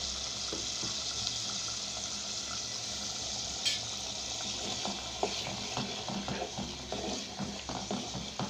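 Steady sizzling and frying in a pan as bean seeds are added, a continuous hiss with scattered light stirring clicks and taps throughout.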